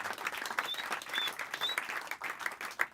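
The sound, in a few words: audience applause at a comedy show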